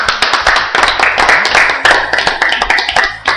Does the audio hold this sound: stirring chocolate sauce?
no